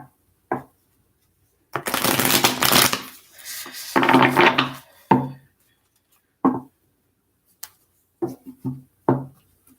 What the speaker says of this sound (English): just a couple more shuffles here for Gemini